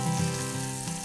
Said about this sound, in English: And we're just going to briefly simmer away.